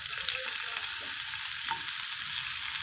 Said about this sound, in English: I'm going to add onion.